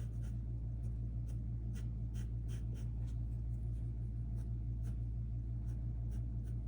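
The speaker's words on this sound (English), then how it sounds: "sketch where the collar area and the entrance of your foot would be. Sketching this diagonal line." Pencil sketching a diagonal line on paper while blocking in the collar and foot opening of an Air Force 1 shoe drawing, a steady soft scratching over a low constant hum, no talk.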